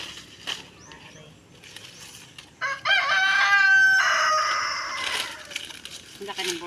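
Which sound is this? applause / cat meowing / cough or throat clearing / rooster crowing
rooster crowing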